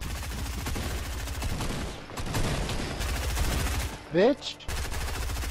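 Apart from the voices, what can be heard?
gunfire in a video game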